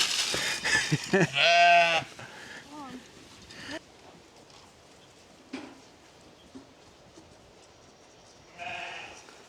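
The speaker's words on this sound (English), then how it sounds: "Miss Bo Peep with her sheep." Sheep on a farm field bleat loudly and close up in a quick burst of wavering cries at the start, followed by quieter rustling and a few faint sounds, with no talk.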